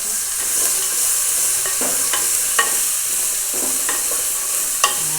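Curry leaves are stirred in hot oil, a bright steady sizzle up close with repeated scraping strokes of a spoon against the pan and two sharper clacks.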